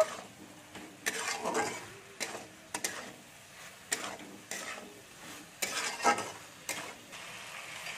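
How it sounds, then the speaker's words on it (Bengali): Okra, onion and potato stir-fried together in a masala in a pan, with repeated scraping stirs and a soft sizzle running underneath, each stroke coming in short bursts at an uneven rhythm, fairly close. "এই মশলাটার সাথে আমি একটু কষে নেব।"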